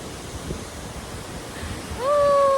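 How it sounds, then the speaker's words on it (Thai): A waterfall at a picnic spot near a hydroelectric dam in Thailand gives a steady broadband rush of falling water, loud and constant, with a thin whistling tone rising over it near the end. "น้ำตกตาด"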